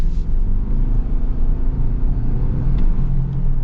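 A 2025 Toyota 4Runner TRD Off-Road Premium, non-hybrid, accelerating, heard from inside the cabin as a steady, loud low engine drone and road rumble; no talk.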